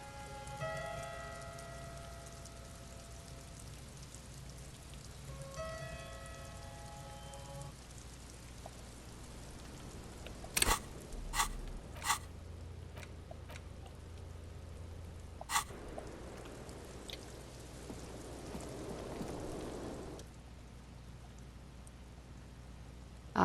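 Steady rain falling in the video game Disco Elysium, a soft continuous patter under faint game tones and a few sharp clicks, rising slightly before fading out.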